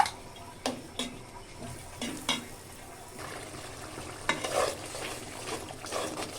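A spice paste of ground nuts, yogurt and tomato sauce sizzles and is stirred in a pan for shrimp with pointed gourd, with steady frying hiss and several scraping stirs and clinks.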